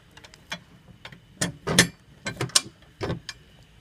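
Bolts and nuts are fastened on the bracket of a 44-inch polycarbonate Spalding basketball backboard, giving a series of sharp metallic clicks and ratcheting ticks in irregular bursts, close and fairly quiet with no voices.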